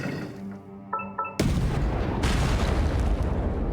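In the video game Genshin Impact, a cannon fires with a sudden heavy boom that cuts across a quieter musical tone, followed by a sustained loud rumbling roar and a second thump.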